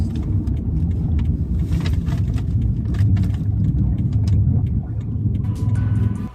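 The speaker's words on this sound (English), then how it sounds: "guess my car's being a little noisy today" A car engine rumbles steadily and low, with a constant droning growl and faint rattles, heard up close for several seconds.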